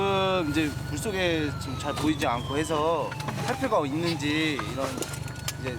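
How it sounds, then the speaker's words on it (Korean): A warbling siren sounds beside a rubber boat moored at a small rock island in the Antarctic sea as divers prepare to enter the water. Its rising and falling wail runs under ongoing nearby talk. "사이렌 소리가 울려 퍼집니다."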